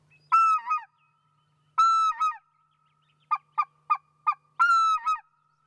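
A hand-blown goose call imitates whitefront speckled-belly geese, with three loud two-note honks and a quick run of four short clucks between them, each clear and close against silence.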